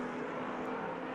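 A Cobra race car runs on the Watkins Glen track during an SVRA vintage feature race, heard as a steady, fairly distant engine drone that holds at an even level throughout.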